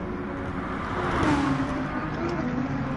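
Lamborghini race car engine accelerating hard down a straight at the Nurburgring GP circuit in Gran Turismo Sport, a loud sustained engine roar that swells in the middle, with other cars' engine noise mixed in.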